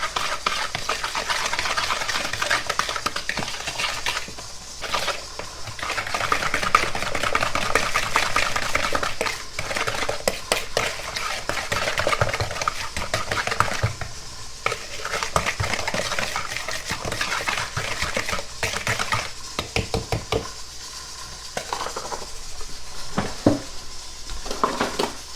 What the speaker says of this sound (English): I'm going to try my regular whisk for this part